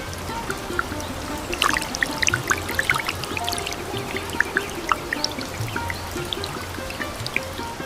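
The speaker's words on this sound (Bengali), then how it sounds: "হঠাৎ একদিন খুব জোর বৃষ্টি শুরু হলো" Heavy rain pours down in a steady, fairly close patter, with scattered drips and splashes breaking through the constant wash of water.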